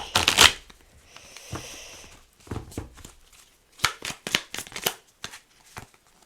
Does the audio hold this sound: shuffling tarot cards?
yes